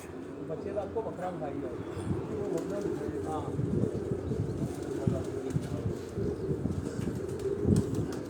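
Pigeons coo softly on a rooftop in Rawat, Pakistan, while people talk nearby, with occasional rustles and knocks mixed in.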